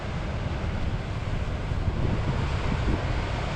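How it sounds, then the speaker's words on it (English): Storm wind and heavy waves on the wild North Sea coast of Scotland, a continuous roaring surf and buffeting wind noise that swells slightly louder partway through. "I can't even believe the ferociousness of this storm"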